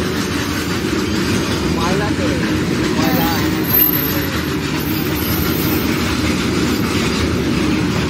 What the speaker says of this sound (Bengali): মালগাড়ি, তাই তো?